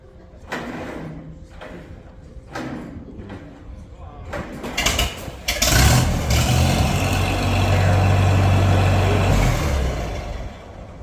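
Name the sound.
Massey Harris 44 tractor engine running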